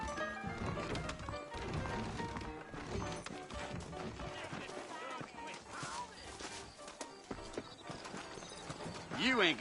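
Horse hooves clip-clopping with an occasional whinny in Red Dead Redemption, mixed with game sound effects and background music, and people talking over it.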